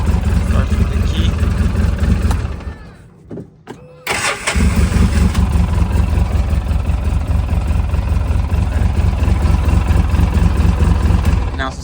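A 2011 Polaris RZR 800S engine is cranked with the key after a new solenoid, sputters briefly, catches and settles into a loud, close, throbbing idle with a voice heard faintly.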